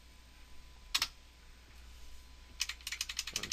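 Computer keyboard keys are tapped close up while entering a Linux terminal command: a quick double press, a pause, then a rapid burst of about eight clicks at the end over faint room hiss.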